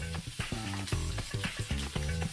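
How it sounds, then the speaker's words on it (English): Fried scorpions tossed in a wok crackle and sizzle with repeated rhythmic scraping stir strokes, close and moderately quiet, with no talking. "Now, stir fry again the fried scorpions."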